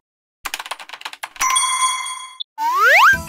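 After a quick run of light clicks, a bright electronic chime rings and sustains for about a second, followed by a springy rising boing.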